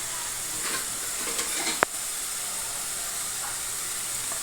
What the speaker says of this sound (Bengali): টমেটো পেঁয়াজটা হালকা হালকা ভাজা হয়ে গেছে, এর মধ্যে এবার আদা রসুন বাটাটা দিয়ে দেবো।